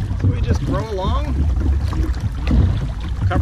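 Oars creak and splash as a small rowboat is rowed along near Reedville, with wind noise and water sloshing close to the microphone and a voice speaking over it.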